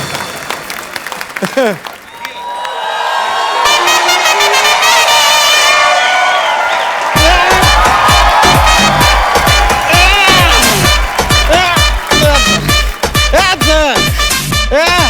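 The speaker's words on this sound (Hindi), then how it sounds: "जोरदार तालियां नरगिस के लिए" A TV comedy show studio audience applauds and cheers for Nargis as she makes a stage entry. Loud, sustained clapping and cheering fill the scene, with voices and whoops mixed in and people talking over it.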